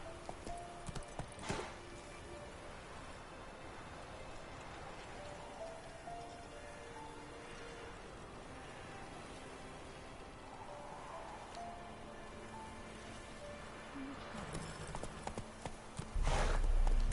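Roach the horse from The Witcher 3 video game trots through the rain, steady close hoof clops over pattering raindrops, with a short whinny near the end.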